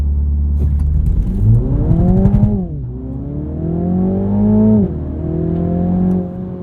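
2021 Mini John Cooper Works GP, a front-wheel-drive hot hatch, launching on cold tires on a cold morning: a loud engine revs up through rising gear pulls, dipping at each quick shift, heard from inside with no talking.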